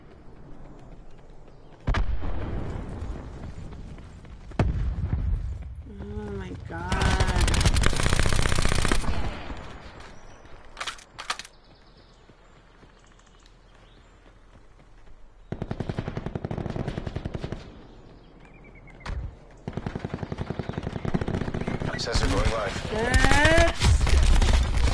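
Rapid bursts of automatic gunfire from a multiplayer shooter game, loud and close, in several volleys separated by quieter gaps, with a player's voice speaking over parts of it.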